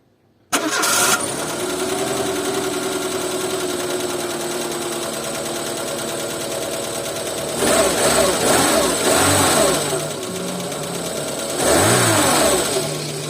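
Car engine cranking and starting after a spark plug replacement, then idling steadily with two loud revving bursts, close up and alone.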